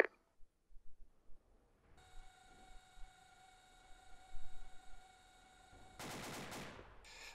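Mark 19 grenade launcher fire in Arma, heard as a string of muffled distant thumps, then a steady tonal drone and a louder burst of fire toward the end, with no talking.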